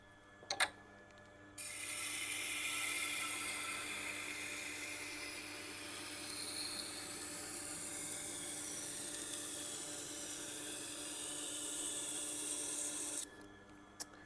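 A Victorinox 8-inch chef's knife ground on a Tormek wheel gives a steady, continuous hiss and rasp of steel on stone, even and close, running almost without a break between short pauses at the start and end.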